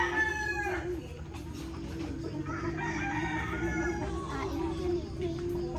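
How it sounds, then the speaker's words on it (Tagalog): Several chickens cluck and a rooster crows nearby, with steady farmyard background noise. "Tapos ito naman yung mga manok, oh."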